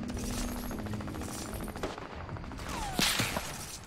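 SMG gunfire in Fortnite, rapid bursts of shots fairly quiet against a busy game background, with a sharper cluster of shots near the end.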